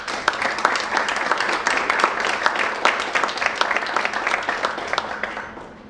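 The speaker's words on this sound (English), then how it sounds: "I'd love to just give each of them a round of applause right now as well." Audience at a city anniversary time capsule ceremony breaking into sustained applause, dense crowd clapping that holds steady for several seconds before starting to fade.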